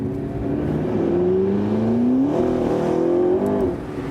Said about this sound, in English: Shifting down and then pushing the throttle.